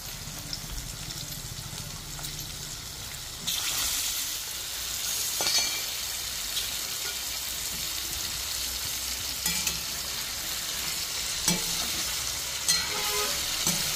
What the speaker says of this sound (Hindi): तर चला मग टाकूच मास आता